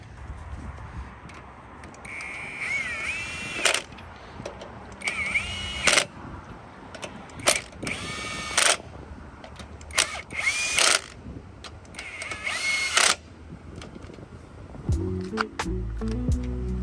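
A power tool tightens wheel lug nuts onto wheel spacers in a series of about six sharp whirring, rattling bursts with short pauses between them, ending in a lower mechanical clatter.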